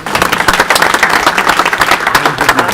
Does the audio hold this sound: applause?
yes